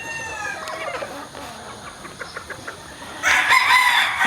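Gamecock roosters of Sweater, Golden Boy, Golden Monkey and Yellow-Legged Hatch lines crow and cluck nearby, with a loud crow bursting in near the end over a steady background.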